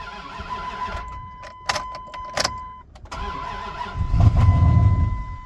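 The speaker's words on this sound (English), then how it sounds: "I hear the pump coming on. Should I crank it?" A 1998 Dodge Ram 1500 engine cranks over with the starter whirring in short bursts, then catches briefly into a rough, louder idle toward the end, heard close and alone with no talk.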